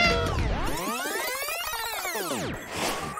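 A kitten gives long, drawn-out meows that rise and fall in pitch, loud and close, one after another with no break.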